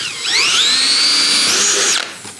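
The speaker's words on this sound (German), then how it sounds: "Eine Rissende anbohren." A power drill bores into the end of a crack in a cracked plastic car bumper during a cheap repair, giving a loud, close, high whine that climbs in pitch, holds steady and then cuts off after about two seconds.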